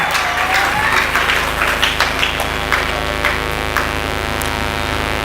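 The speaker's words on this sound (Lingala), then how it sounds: "Applaudissez très fort pour le Seigneur Jésus." Church congregation applauding loudly, a dense burst of clapping that gradually thins out over several seconds, with a low steady hum underneath and a few scattered claps near the end.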